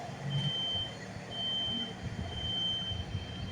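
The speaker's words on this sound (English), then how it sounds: "But the alarm is still going off, and that's really loud and obnoxious." A smoke alarm sounds loud and shrill, its high steady tone repeating in long pulses over a low indoor rumble, with no one speaking.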